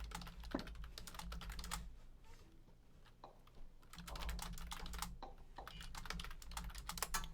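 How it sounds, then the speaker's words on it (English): Loud typing on a computer keyboard in dense bursts of rapid clicks, with a brief lull in the middle before the keystrokes resume, close and steady throughout. "Now that I'm done with my loud typing."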